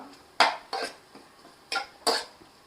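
A spoon knocks and scrapes against a pot while biryani masala with green chillies is stirred, four or five distinct clanks spaced irregularly over quiet background.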